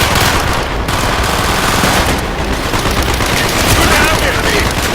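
Dense, continuous automatic gunfire from a Call of Duty Black Ops battle, loud and unbroken rattling with shouted voices buried in the din.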